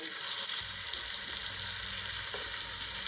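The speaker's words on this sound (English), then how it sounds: "We're going to move the steaks to the griddle." Grass-fed beef steaks sear on a hot griddle with a loud, steady, close sizzle and crackle that carries on throughout, with no talk.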